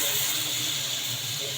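Water is poured into a hot pan of browning bulgur kofta topped with onion, raising a loud, steady hiss and sizzle that fills the whole stretch without a break.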